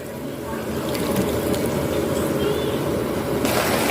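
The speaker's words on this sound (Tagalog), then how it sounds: "Lalagyan ko po yung tubig." Water pours into a cooking pot holding ginger, garlic and jackfruit for coconut-milk jackfruit stew, a close, steady splashing fill that runs throughout.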